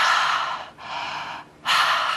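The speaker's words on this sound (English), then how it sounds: "a deep connected breath in and out of the lower belly" Deep connected breaths drawn in and out of the lower belly, three long airy rushes close to the microphone separated by brief pauses, alone without talk.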